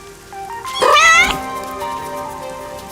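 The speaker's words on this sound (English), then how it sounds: "That's what the cat is saying." A cat in the video game Master Detective Archives: Rain Code gives a single clear, drawn-out meow over soft background music.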